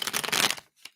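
A quick flurry of tarot cards being shuffled, a dense papery riffle lasting about half a second, then a brief soft tap as the deck settles.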